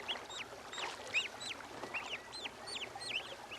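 A wild turkey hen answers her lost poult with a quick series of repeated, rising-then-falling yelping calls, several overlapping at moderate distance in the open.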